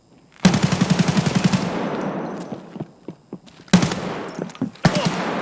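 Automatic rifle gunfire from a player standing and shooting in the video game Escape from Tarkov, two loud rapid bursts of shots with a pause between them.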